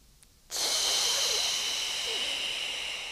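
A child breathes audibly during a kids' yoga exercise, one long loud airy exhale or hiss starting abruptly and sustained close to the mic.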